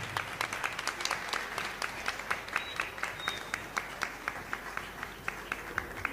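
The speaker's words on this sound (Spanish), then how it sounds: "Que se escuchen los aplausos" Clapping from a church congregation, with a few sharp hand claps landing in a fairly regular rhythm over a softer bed of scattered applause, close and steady throughout.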